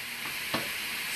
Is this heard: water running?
no